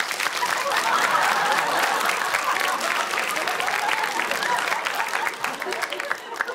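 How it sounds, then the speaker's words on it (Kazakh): A stand-up comedy audience in a hall claps loudly and keeps clapping throughout, with a dense mass of hands and some crowd noise mixed in. "сол шапалақ ұрсыншы."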